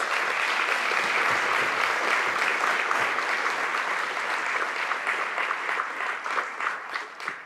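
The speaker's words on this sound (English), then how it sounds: "Please give them all another round of applause." A large audience at an alumni awards banquet claps steadily in sustained applause, loud and dense throughout, tapering slightly toward the end.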